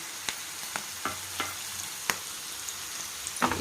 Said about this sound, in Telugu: బాగా వేగిన తర్వాత మునక్కాయ ముక్కలు వేసుకుందాం